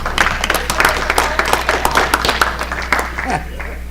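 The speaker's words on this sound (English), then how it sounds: "Big applause. Big applause." Audience applause at a city council meeting, a brief round of scattered claps, fairly close, with talking over it.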